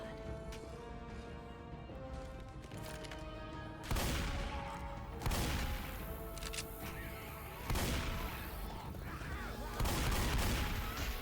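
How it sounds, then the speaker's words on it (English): Shotgun blasts from Left 4 Dead 2 ring out as a handful of heavy, spaced booms roughly every one to two seconds over a bed of game music and ambience, loud and close. "Going with the shotgun."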